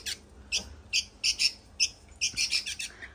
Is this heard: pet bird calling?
yes